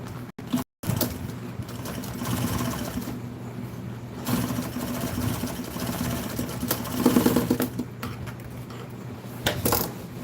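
Sewing machine stitching a French seam on a seat cover for a 1974 Ford F-100 truck, a continuous close mechanical whir with a brief stop near the start and fluctuating speed, no talking.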